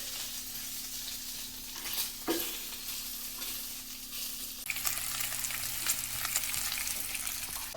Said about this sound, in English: The rest of the bacon we want to cook.